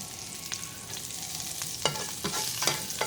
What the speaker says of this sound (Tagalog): gigisa muna natin ito kabayan